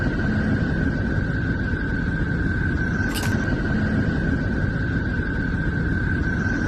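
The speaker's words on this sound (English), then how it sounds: "This is what Neptune sounds like." Space sound recording of the planet Neptune: a faint, steady hiss with a thin sustained tone, even throughout, broken only by a short sharp high crackle partway through.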